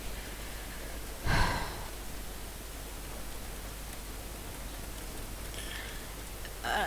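Steady city rain hisses quietly and evenly throughout, with a brief louder rustle or splash early on and another near the end.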